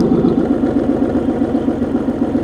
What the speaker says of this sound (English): this is what it sounds like with them closed.